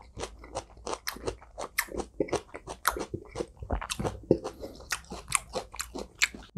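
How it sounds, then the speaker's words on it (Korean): Close, crisp crunching and chewing of raw tuna sashimi eaten with fresh chili pepper, in uneven rapid bites with no talking. "원래 회에 이 고추까지 이렇게 먹으면 아삭아삭한 맛있어요"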